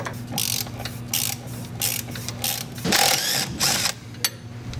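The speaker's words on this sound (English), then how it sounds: "we're gonna go ahead and loosen this nut" A ratchet wrench loosening a 17mm shock nut on a BMW E90, clicking in repeated rhythmic bursts of rapid pawl ratcheting, close and clear, with no talk.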